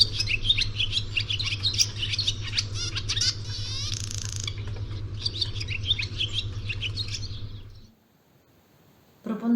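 Swallows twittering in a lively, ringing chorus of chirps and trills, close and steady over a low hum, stopping abruptly near the end.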